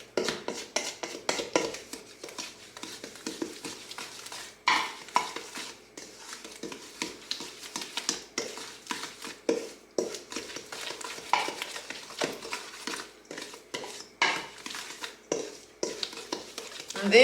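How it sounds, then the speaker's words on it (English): Chocolate chip cookie dough stirred in a bowl, with continuous close scraping and soft thuds of a spoon against the sides in an uneven rhythm. "So I am just going to mix this all up"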